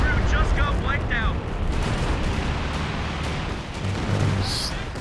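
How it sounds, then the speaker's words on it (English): Calliope rocket artillery barrage in Company of Heroes 2, a dense rumbling roar of rocket fire and explosions running steadily throughout, with a voice talking briefly at the start. "The Calliope barrage."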